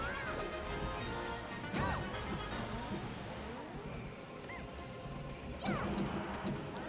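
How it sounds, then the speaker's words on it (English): A down smash attack lands with a sharp crash-like hit amid a busy Super Smash Bros. Melee tournament grand final match, with game effects and commentators talking throughout. "Another one of those down smashes connects."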